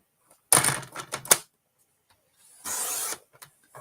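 A paper trimmer slices through cardstock in two short passes, a quick rasping swipe followed by a second softer cut, close and alone.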